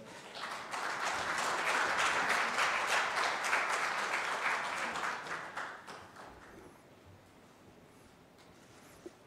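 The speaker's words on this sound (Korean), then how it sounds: "박수로 환영해 주십시오" An audience at a forum claps to welcome the keynote speaker, a full burst of applause that holds strong for several seconds before thinning out and fading to near quiet, with no voices over it.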